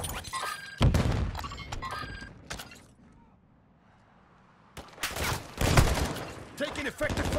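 Bursts of gunfire and impacts in the video game Call of Duty: Modern Warfare II, loud clustered volleys that break off into a quiet stretch and then resume, with voices talking over the action.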